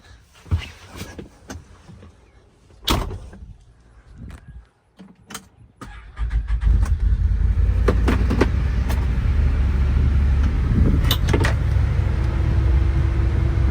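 Doors and rattling handling noises come first, then a Can-Am Defender side-by-side starts moving off for a ride, its engine settling into a steady loud drone over the last half.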